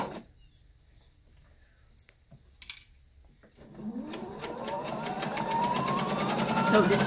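After some quiet handling noises and small clicks, a sewing machine starts stitching a quarter-inch seam through quilt batting, its rapid mechanical whir rising in speed and loudness toward the end, alongside a voice speaking.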